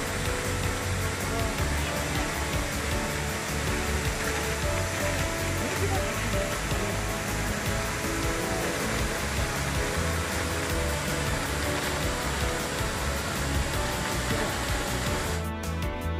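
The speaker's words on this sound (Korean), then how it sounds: "넓은 폭의 하얀 폭포와 파란색의 소가 아름다운 경관이네요." A wide white waterfall pours into a blue pool at Cheonjeyeon Falls on Jeju, giving a steady, dense rushing roar of falling water that holds unchanged and close throughout.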